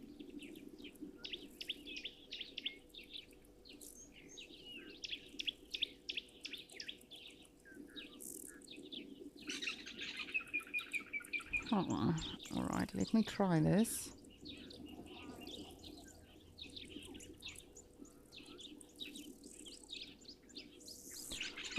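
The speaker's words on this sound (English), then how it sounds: "right above the dam cam, we can actually constantly hear the buffalo weavers" Buffalo weavers busy building a nest above a dam keep up rapid, repeated chirps and calls at moderate distance, with one louder burst midway and someone speaking briefly.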